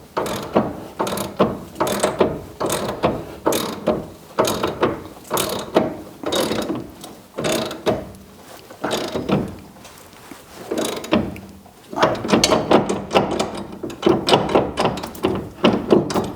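A hand ratchet cranks in rapid clicking bursts, pausing briefly between strokes, while torquing parts to 190 foot-pounds during brake work on an IROC; close and fairly loud, with no voices.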